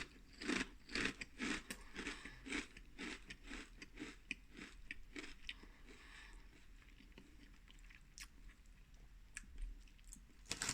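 Close, crunchy chewing of McCoy's Fiery Steak Flavour crisps, a rapid run of sharp bites and crunches that thins out into quieter, scattered chews.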